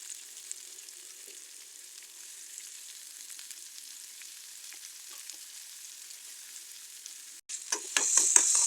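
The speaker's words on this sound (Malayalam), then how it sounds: "അതേ ചട്ടിയിലേക്ക് തന്നെ കുറച്ച് ഓയിൽ ഒഴിച്ചിട്ടുണ്ട്. പിന്നെ അതിലേക്ക് ഒരു വലിയ ഉള്ളി ചെറിയ കഷ്ണങ്ങളാക്കി ഇടുന്നുണ്ട് കേട്ടോ." A large chopped onion frying in oil in a pan for a chickpea curry: a steady, even sizzle runs alone, then near the end louder stirring scrapes and crackles burst in.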